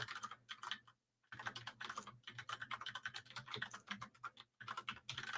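Rapid keystrokes on a computer keyboard as a root command is entered in a terminal, a steady close patter of clicks broken by two short pauses, with no talking.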